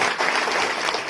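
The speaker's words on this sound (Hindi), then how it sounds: "एक बार तो हम लोग जोरदार तालियों से उनका स्वागत करें।" A crowd at an election rally in Mithila, India, bursts into loud, dense applause for a parliamentary candidate: a continuous wash of clapping that is steady and close, with no voices on top.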